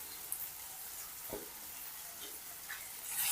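Okra fry sizzles steadily in a pan as coriander and curry leaves are stirred through it. The sizzle holds as a constant hiss, with one brief scrape of the spoon in the middle.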